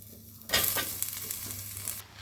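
Taro leaves drop into a hot pan with turmeric and hit with a sudden loud sizzle that settles into a steady frying crackle, then fades near the end. No voices.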